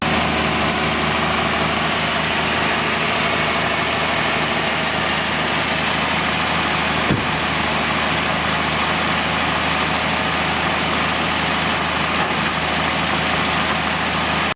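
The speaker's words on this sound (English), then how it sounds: "So let's go ahead and fire it up and hook up a timing light and see where we're at." A 1964 Ford Falcon engine running at a steady idle, a loud continuous close-up drone with a rhythmic low pulse that holds unchanged throughout, with one brief click midway.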